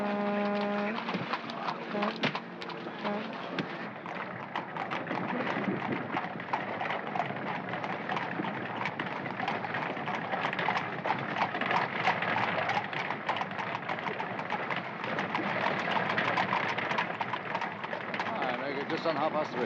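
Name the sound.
horse hooves pulling a cab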